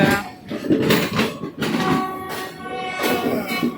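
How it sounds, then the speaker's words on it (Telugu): A Howrah–Tiruchirappalli train rolls into a railway station, a close, loud rumble with a sustained tonal whine and clanking that swells and dips over a few seconds. "బయటకి ఏదో ట్రైన్ వస్తుంది"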